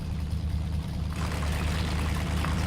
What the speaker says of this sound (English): Hopefully that engine noise is not too loud for you guys.